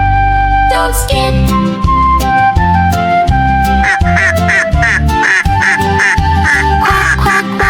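Repeated cartoon duck quacking in a children's dance song, over a loud, bouncy musical backing, steady and up front throughout.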